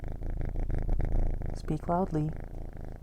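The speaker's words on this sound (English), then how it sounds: "she's purring like nothing else" A cat purrs close up in a steady low rumble, while a person speaks briefly partway through.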